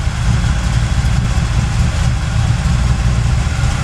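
A carbureted V8 engine on the truck BigRed, fitted with a Thermoquad carburetor, runs steadily at a low, rumbling idle, close by and continuous with no talking.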